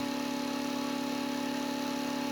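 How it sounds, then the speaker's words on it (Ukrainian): A generator running continuously while charging a battery gives a steady, loud, even mechanical hum with a constant tone and no change over the short stretch. "Як ви бачите, працює генератор і відбувається заряд акумулятора."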